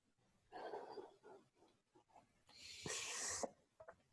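Person yawning during an online webinar, a long breathy exhale followed by a louder, hissing stretch of breath, close to the microphone with no talk.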